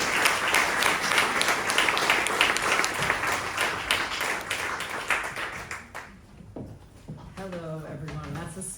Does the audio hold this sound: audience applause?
yes